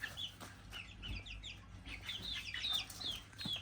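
A young chick clucks and chirps softly at close range, a run of quiet, high peeping calls with a few soft thumps, no talking.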